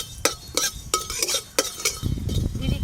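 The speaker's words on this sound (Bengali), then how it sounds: "শুকনো কড়াতে একটু হালকা করে নেড়ে নেব।" Black cumin seeds being stirred in a dry wok for a pumpkin-flower bharta, giving a series of light scraping, rustling strokes at a steady rhythm, close and moderately loud, with no talk.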